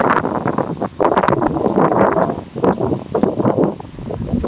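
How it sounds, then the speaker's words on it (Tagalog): Strong wind and high waves at the sea, a loud, continuous broadband roar with gusty surges and buffeting that rises and falls throughout, no voices. "Ngayon mataas yung tubig sa malakas yung alon dahil malakas yung hangin."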